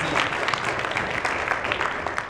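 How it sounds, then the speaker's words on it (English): An audience at a voice acting workshop claps in a brief, dense burst of applause that stays steady and close for a couple of seconds. "Give Brianna a round of applause"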